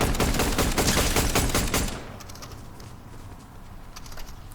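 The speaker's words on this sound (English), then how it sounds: "I believe at this point I see gunfire, and I'm trying to get to the gunfire." Rapid bursts of automatic gunfire from the Fortnite video game rattle loudly for about two seconds, then fade to quieter distant shots and faint scattered pops.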